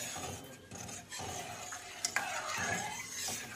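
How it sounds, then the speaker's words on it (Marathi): Milk is stirred in a pan for basundi with a spoon scraping and rubbing against the bottom in uneven strokes. The sound is soft and close over a faint background hiss, with a couple of sharper clinks and no speech. "तर याला सारखं असं फिरवत राहायचं आहे, म्हणजे हे कुठेही बुडाला दूध चिटकणार नाही किंवा जळणार नाही"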